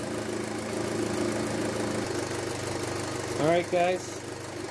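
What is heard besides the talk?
Audi A4 2.0T engine idling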